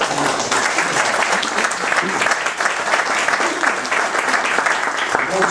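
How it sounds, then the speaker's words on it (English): A room full of guests at a legislative luncheon in Covington, Virginia, gives a steady round of clapping that stays loud and even from start to finish. "I give people in the room a round of applause right now."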